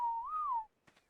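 A short, clear rising and falling whistle from the command whistle in the survival video game ARK, followed by a couple of faint soft clicks.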